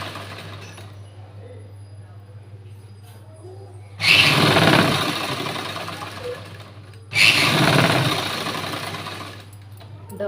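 Electric sewing machine stitching a button-front blouse, two loud bursts of running stitches, each lasting a few seconds, separated by a quieter pause, with a steady low hum throughout.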